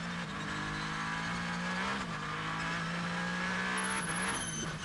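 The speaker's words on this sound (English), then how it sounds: "Yeah, you could hear the wheel spin" Race car engine at full throttle accelerating out of the pit lane at Spa during an FIA WEC race, the number 50 car spinning its wheels in third gear; a loud, steady, droning roar with no talk.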